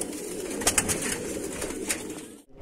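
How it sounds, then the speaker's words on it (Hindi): Domestic pigeons of Saharanpuri, Rampuri and Golden breeds coo softly at close range, a few short throaty calls over a steady background hiss, with no talking. "बहुत ही उम्दा किस्म के कबूतर थे, जिसमें सहारनपुरी भी थे, उसमें गोल्डन भी थे, रामपुरी भी थे"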